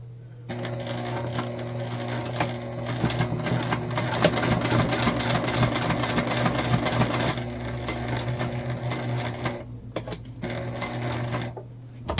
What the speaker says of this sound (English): So we're going to sew from here all the way around and back up to the top